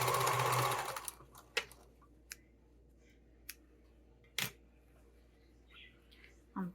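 Sewing machine stitching darts on a sling bag, running steadily for about a second at the start, then quiet apart from a few sharp clicks and taps.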